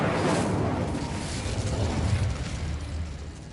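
An Incendio fire spell cast in Hogwarts Legacy, a loud, dense roaring burst of flame that sustains and slowly tapers, heard alone without talking.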